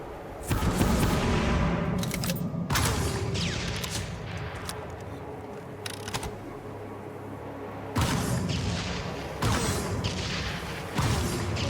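In the video game Firefall, gunfire is aimed at a force field, with bursts of dense rapid shots and booming impacts that come in waves, broken by short quieter gaps.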